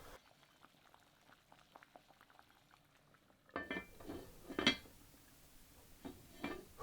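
Eel matelote in red wine boiling in a pot: a faint simmer at first, then louder, close bubbling with irregular pops and gurgles for the last few seconds.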